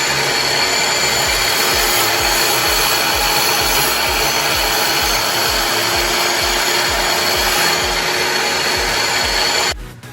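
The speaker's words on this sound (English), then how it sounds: "I'm gonna make 4 or 5 passes through the dressing stone" A wet tile saw's diamond blade grinds through a dressing stone in repeated passes, loud and continuous with a rhythmic low pulsing under a steady high whine, cutting off abruptly at the end.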